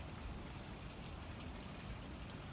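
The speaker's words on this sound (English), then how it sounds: "It's falling and it's bouncing off the ground, which snow doesn't do." Graupel falls during a May snow squall in Westfield, Massachusetts, pellets bouncing off the ground in a faint, dense, continuous pattering hiss, distant and even, with no voices.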